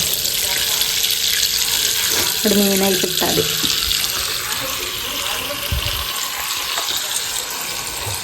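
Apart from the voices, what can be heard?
water from tap filling a wash basin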